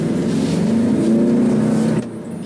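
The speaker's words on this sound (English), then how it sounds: "My father gives the car a little more gas than it needs and revs the engine." A car engine revs hard with a sustained, rising mechanical drone for about two seconds, then the revs drop back to a lower, quieter idle.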